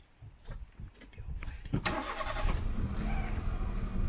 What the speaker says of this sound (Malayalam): അത് കുതിരൻ്റെ സൗണ്ടല്ല വണ്ടി സ്റ്റാർട്ടാക്കിയാണ്